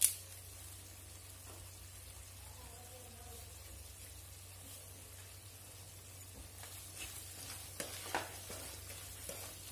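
Chicken frying in a pan with curry leaves gives a steady low sizzle that runs the whole time, with a few sharper crackles and stirring clicks near the end. No one speaks.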